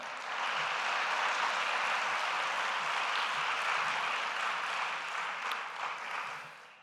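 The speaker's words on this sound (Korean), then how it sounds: "여러분 뜨거운 박수 부탁드립니다." A chapel congregation at Seoul Jangsin University applauds a guest from Daegu during a Tuesday service, with dense, steady clapping that rises quickly and holds evenly before easing slightly near the end.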